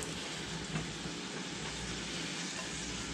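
Meat sizzling as it goes into a pan for a manicotti Italian casserole, a dense continuous close hiss and crackle at moderate loudness.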